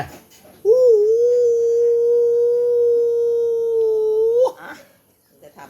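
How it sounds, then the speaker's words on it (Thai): A dog howling on command, one long, loud, sustained howl close by that holds a steady pitch for several seconds, briefly preceded and followed by people speaking. "หอนได้ไหมหอน"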